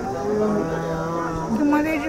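A cow at a cattle market moos in a long, loud, sustained low call close by, its pitch rising near the end, with faint crowd murmur in the background.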